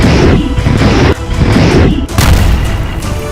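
Missile strike explosions at the Kharkiv railway station in Ukraine, loud, heavy booming and rumbling throughout, with fresh blasts breaking in about a third and two thirds of the way through.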